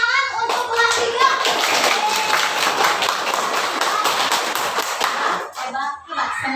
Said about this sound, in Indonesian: Tepuk tangan untuk kelas 3.